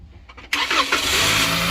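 A 2020 Toyota Camry engine cranks briefly and catches after a jump start, then settles into a steady, close idle that runs to the end.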